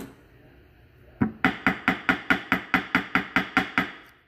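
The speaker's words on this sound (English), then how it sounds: "I'm using a planishing hammer so I don't dent the wood" A planishing hammer pounds silver wire inlay into a V groove in wood, fifteen or so sharp, evenly spaced metallic taps at a steady quick rhythm, close and clear after a quiet moment.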